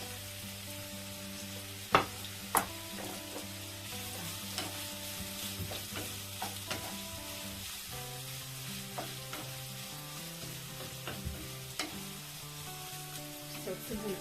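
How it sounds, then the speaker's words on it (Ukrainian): Chopped onion sizzles steadily in a hot pan for borscht, a constant crackling hiss with occasional sharp pops and faint stirring clicks. "я відправляю цибульку смажитися"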